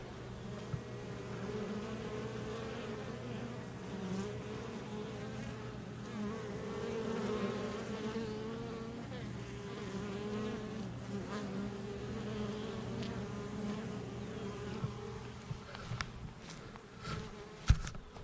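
Honeybees buzz continuously around a backyard hive, a dense droning hum with individual bees passing close, steady and loud throughout with no talk.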